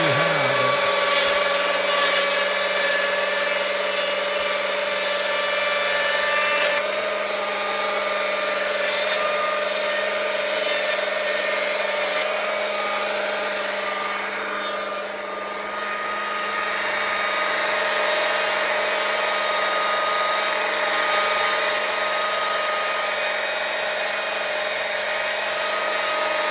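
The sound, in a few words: Stihl MSA 220 C electric chainsaw cutting old hardwood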